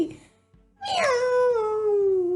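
A human voice imitates a cat's meow during a storytelling of The Little Red Hen, giving one loud, drawn-out meow that falls in pitch after a short quiet pause.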